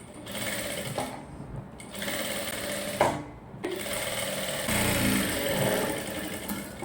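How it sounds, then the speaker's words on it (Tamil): A sewing machine stitches around the neckline of a short gown, running in steady close-up bursts with two brief pauses, and no voices. "கழுத்து தைக்க போகிறோம் ஒரு கால் இஞ்சி அந்த அளவில் மெதுவாக தைங்க"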